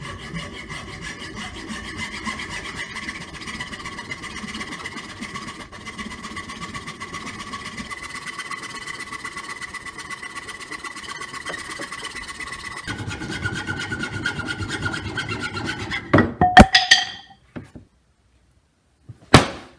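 A hand saw cuts a wooden mace handle to length in a steady close rasping rhythm that grows louder as the cut deepens, then ends in a few sharp knocks as the piece falls free.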